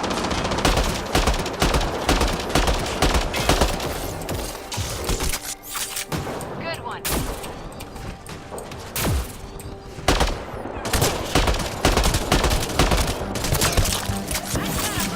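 Dense, loud video-game gunfire with heat-seeking ammunition in Mass Effect: Andromeda, a near-continuous fusillade of rapid shots and bursts filling the whole stretch with no talk.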